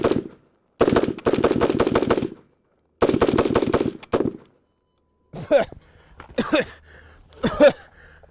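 A rifle fitted with a SureFire Warden muzzle brake fires over a dirt pile in loud, close strings of rapid automatic shots, with short pauses between bursts and a few shorter, sharper bursts near the end.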